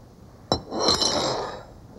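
A metal spoon strikes a small glass with one bright, sharp clink, followed by a scraping, ringing rattle of the spoon against the glass that fades over about a second.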